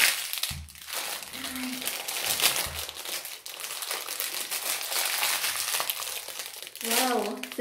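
Plastic packaging of a LOL Surprise ball being torn and crinkled open, a continuous close crackling and rustling, with children's voices speaking briefly over it.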